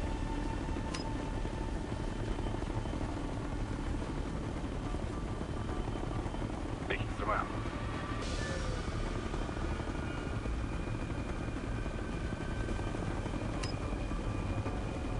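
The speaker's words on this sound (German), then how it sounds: "Nur noch der fucking Hubschrauber da." A helicopter in the video game Ghost Recon: Future Soldier gives off a continuous rotor drone that holds steady for the whole stretch, with a few faint clicks and no voices.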